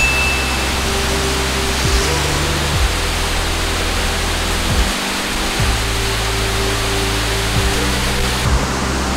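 A waterfall beside an amphitheater in Khorfakkan roars close by, a loud, constant rushing wash of water with a low rumble running underneath throughout.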